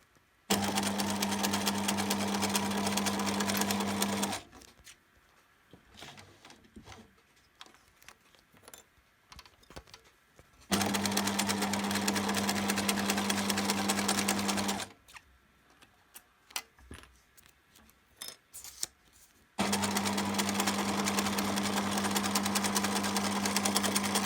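A sewing machine stitches a vinyl pouch in three loud, steady runs of rapid mechanical stitching, separated by quiet pauses with light handling noise.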